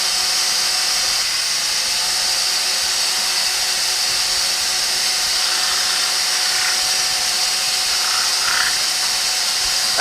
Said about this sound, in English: with the lathe running nice and quick, you can buff it up and burnish the shine on